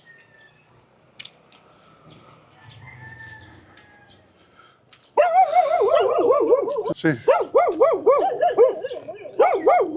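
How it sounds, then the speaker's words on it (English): Dogs bark from cages in a Philippine town setting, a burst of repeated loud, close barks in an uneven rhythm after a quieter stretch of background noise and a brief spoken remark. "Dogs in cages. That's what they do here, they put their dogs in a cage."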